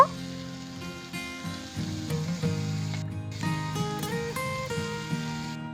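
Washed kalai greens go into a pan of hot oil with fried garlic, ginger and black cumin, giving a moderate close sizzle that rises and crackles, with some handling noise and no speech.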